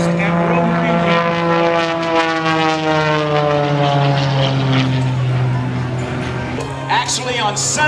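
Propeller-driven aerobatic airplane flying a flat frisbee turn at the Hillsboro air show, its engine droning loudly and steadily with a shifting pitch throughout, while a commentator talks over the public address.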